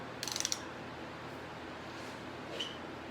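A torque wrench gives a quick burst of five or six sharp ratcheting clicks while tightening bolts in a race car shop, then a faint metallic tick follows after a pause.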